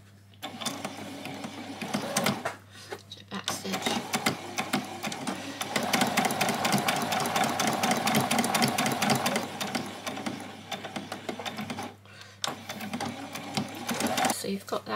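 A sewing machine stitches down a twice-folded hem on a doll's dress, rapid mechanical clatter running in bursts with short pauses between, close up and fairly quiet, with a voice talking over parts of it.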